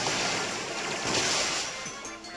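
A Water Gun attack in the Pokemon Sun video game sounds as a continuous rushing, splashing spray of water across the whole short burst, fairly loud and steady.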